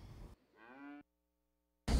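A cow on a dairy farm gives a single clear moo lasting about half a second, preceded and followed by brief bursts of farm noise, with a quiet gap in between.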